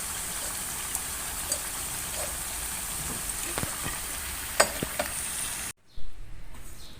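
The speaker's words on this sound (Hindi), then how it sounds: "अब ये फ्राई हो चुके हैं। इसे हम निकाल लेंगे।" Potato pakora frying in hot oil gives a steady, dense sizzle with a few sharp crackles and clinks, then cuts out abruptly near the end before a brief louder burst of sizzling returns.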